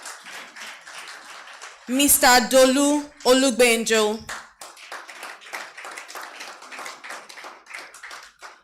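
Sparse, distinct hand claps from a small audience at a business television panel welcome, continuing steadily while a man announces a guest's name loudly over them.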